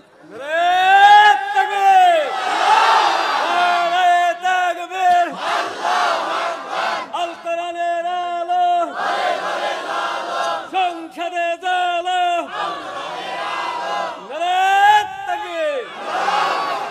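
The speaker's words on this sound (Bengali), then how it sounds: "একটা তাকবীর দেন তো দেখি।" A large sermon crowd chants takbir in loud, rising unison calls, repeated in several swelling waves over the whole stretch, with a lead voice prompting between them.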